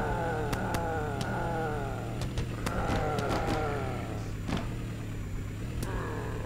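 Revving car engine in a zombie-smashing car video game, accelerating in steady surges with bright clicks and impacts over a constant low hum, loud and close throughout.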